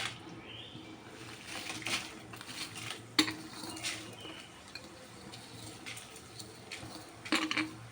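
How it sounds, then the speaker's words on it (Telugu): Dry red chillies dropped into a spoonful of hot oil in a pan for Andhra-style gongura pickle, giving a soft steady sizzle with scattered clinks and scrapes of a spoon against the pan, close and fairly quiet. "ఆయిల్ వేడెక్కింది. తర్వాత ఎండుమిరపకాయలు వేసుకుందాం ఫస్ట్."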